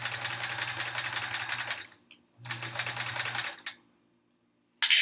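A sewing machine stitches rows of a Triangle Tango quilt in two steady, buzzing runs of about two and three seconds, separated by a short pause, with a brief clatter at the end.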